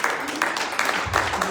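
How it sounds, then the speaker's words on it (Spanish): Congregation applauding in a church, a brief burst of clapping mixed with voices and cheering, fairly close and full. "démosle un aplauso al Señor"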